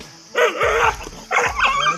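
A dog in a forest barks twice in quick succession, loud and close, each a short yelping bark with a whiny edge, alone with no other sounds.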